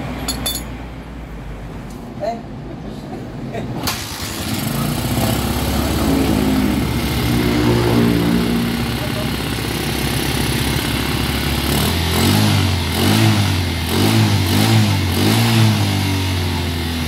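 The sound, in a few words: motorcycle engine starting and revving after carburetor cleaning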